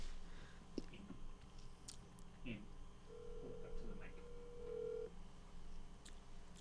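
A phone call is being dialed: a short series of electronic tones, then a sustained steady tone, heard faintly indoors under quiet background noise and soft mouth sounds.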